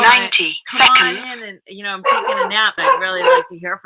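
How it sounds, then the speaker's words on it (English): A dog gives a few short barks and yips, close by and mixed in with a person talking almost continuously. "That's the dog saying hi."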